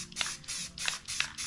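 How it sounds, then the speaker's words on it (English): Short spritzes of spray paint laid down as a base coat, with about four separate bursts of hiss spaced roughly evenly, each brief and close, separated by quiet pauses. "Never do a continuous spray."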